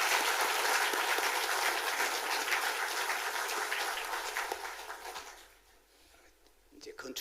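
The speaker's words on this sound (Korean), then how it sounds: "축하의 박수를 한번 보내겠습니다" A church congregation claps in celebration at the dedication service for a new church building in Gijang, Busan, a dense, sustained round of applause that fades away before a brief stir of noise at the end.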